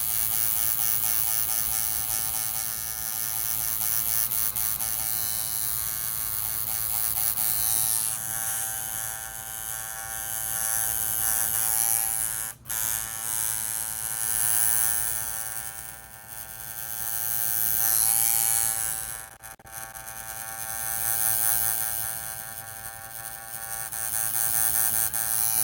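Steady electric buzz of a tattoo machine fitted with a fine detail needle during portrait tattooing, a continuous mid-loud hum with a few brief cutouts, no talking.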